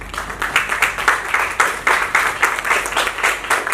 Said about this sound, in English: give a big round of applause to the team